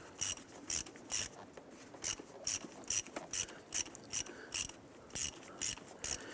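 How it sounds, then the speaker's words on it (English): A ratchet with a 10mm socket and extension loosens a hose clamp on the air intake tube of a 2009-2015 Honda Pilot, giving a close, regular series of crisp clicking bursts, about a dozen in a row, with no talk. "Using a 10mm socket and extension, we're going to go ahead and loosen this hose clamp right here."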